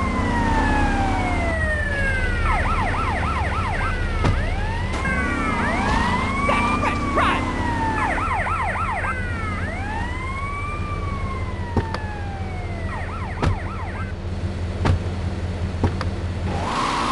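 Police siren in the video game GTA Vice City wails in repeated rising and falling sweeps over steady car engine noise, with the siren cycling in distinct bursts and fading in and out.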